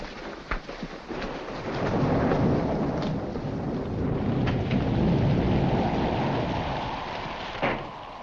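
Heavy rain pours steadily in a thunderstorm, a loud dense hiss with low rumbling and a few sharp knocks, and no voices over it.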